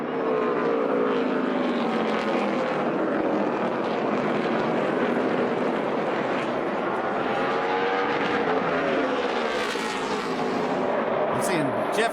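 NASCAR stock cars race at Martinsville on the final laps, a continuous loud roar of engines with shifting pitch as the pack sweeps through the turns, with crowd noise underneath.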